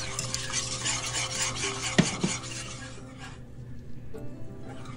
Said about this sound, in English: Add the milk little by little and keep mixing it until you have a smooth sauce.